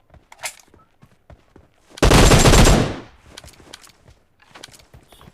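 Gunfire in PUBG Mobile on the Livik map: a single loud, sustained automatic burst lasting about a second, framed by faint scattered ticks and light footstep-like taps.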